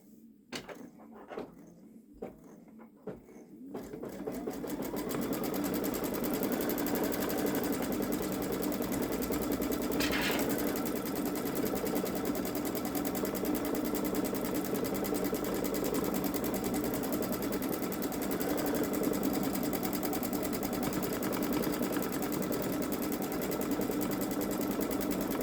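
A Babylock Solaris Vision sewing machine doing edge-to-edge quilting starts after a few quiet seconds of faint clicks, then runs in a steady, continuous whir for about twenty seconds.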